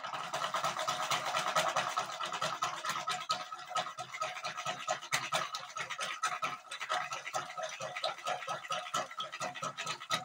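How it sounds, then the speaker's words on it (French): Ceramic glazes, a saturated copper green and an iron red, stirred together in a container, giving a continuous close scraping and swishing with quick irregular strokes for the whole stretch and no talk. "On va mélanger."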